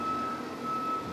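A semi truck backing up near a campsite sounds its reversing alarm, a steady high electronic beep held over low engine rumble, moderately close and without talk.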